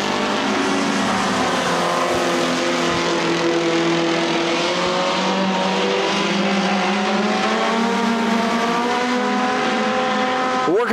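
Race cars lap an oval speedway during a feature event, with a loud, continuous engine roar whose pitch rises and falls as the cars pass. A track announcer's voice is faintly audible under it.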